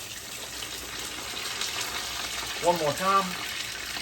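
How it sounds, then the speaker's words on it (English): A thick fresh flounder fillet fries in a pan after being flipped, giving a steady hiss of sizzling oil that runs throughout, while a voice speaks briefly near the end. "All right, let's flip this big thick one."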